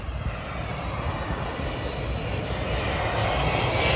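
A fixed-wing airplane passes overhead on approach to land at a nearby airport, its engine roar steady and broadband, swelling slightly louder as it draws closer, with no voices.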